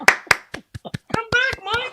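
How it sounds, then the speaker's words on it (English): A quick pair of light, quiet hand claps in the style of a golf clap, followed at once by a person talking. "Golfer clap."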